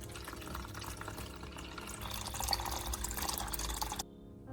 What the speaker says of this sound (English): Now you pour clean water into a plastic tray.